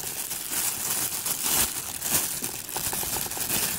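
Plastic crinkles and rustles up close in irregular bursts as something is unwrapped, with no voices.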